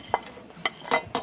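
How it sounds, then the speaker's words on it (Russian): Chopped onion tipped into a hot frying pan with a couple of spoonfuls of sunflower oil on a stove, giving several short sizzling bursts with brief scraping and stirring noises between them, close and fairly quiet. "Высыпаем наш нарезанный лук"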